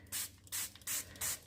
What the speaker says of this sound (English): And I'll spray.